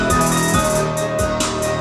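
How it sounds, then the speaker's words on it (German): A hip hop beat plays loudly, with thumping bass, crisp hi-hats and a steady looping groove. "Hört ihr den Beat? Sehr guter Beat."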